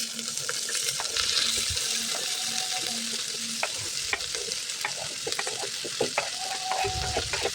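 Oil sizzles and crackles steadily as cumin and tomato fry and are stirred in a pan, with clinks of a utensil and some running water in the background.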